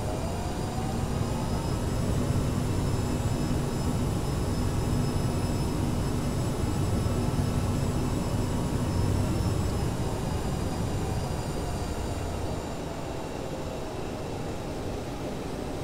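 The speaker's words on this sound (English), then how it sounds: "Alors, I will take off," A CRJ 700 jet takes off from a Marseille runway, its engines producing a loud, steady roar with a high whine across the whole stretch, heard from the cabin and easing slightly toward the end.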